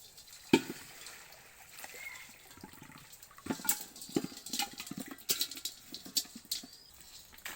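Water washes mud off freshly caught tree crabs: faint, irregular pattering and dribbling with scattered scrabbling clicks close by, and no speech.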